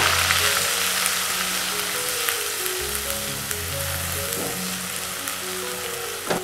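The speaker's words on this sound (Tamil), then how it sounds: "இப்போ இந்த இஞ்சியும் பச்சை மிளகாயும் போட்டிருக்கீங்களா, அந்த விழுது சேர்த்துக்கோங்க." Ginger and green chili paste fries in a hot pan, a loud steady sizzle with occasional stirring scrapes, close and continuous with no talk over it.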